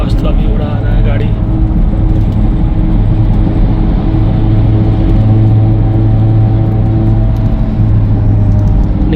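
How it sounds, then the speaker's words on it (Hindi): A bus speeds along a highway, with a loud, continuous low engine rumble and road roar heard from inside the vehicle, steady throughout with no clear pauses. "बस तो अभी उड़ा रहा है गाड़ी।"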